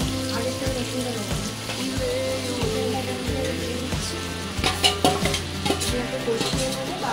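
Chicken with garlic paste and spices is stirred in a hot pan for a Bengali doi chicken, with a steady sizzle and frying hiss beneath scraping spoon strokes and occasional clinks near the end.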